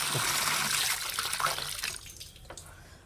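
Water pouring steadily into a pot for planting, a loud rushing stream that tapers off and thins out toward the end.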